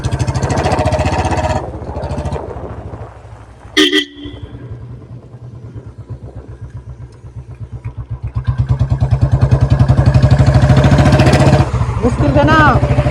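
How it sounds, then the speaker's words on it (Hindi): Royal Enfield Bullet motorcycle with a short-bottle carburettor setting, its single-cylinder engine thumping at idle close by, a brief horn toot, then revving up to a louder steady rapid beat before settling back. "बाकी आप साउंड एंजॉय करो, कैसी साउंड आ रही है बुलेट के अंदर।"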